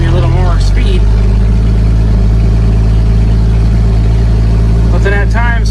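An International Harvester L-130 truck drives in second gear, its engine holding a steady loud low drone throughout while a person talks over it at the start and end.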